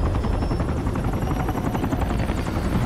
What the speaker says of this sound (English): They're in a helicopter.